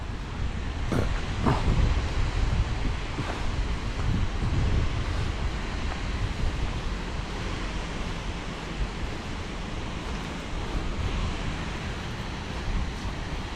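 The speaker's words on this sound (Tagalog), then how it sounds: "Ganda na bagsak ang tubig oh" Continuous broad rushing of a waterfall near a tunnel on the road to Baguio, Philippines, loud and steady throughout, with a wind-like roar and no voices.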